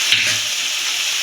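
Cumin and coriander powder fry in spice paste for a yogurt catla fish curry, making a brief, steady, close sizzling hiss.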